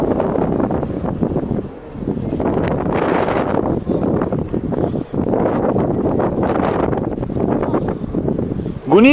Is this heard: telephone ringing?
no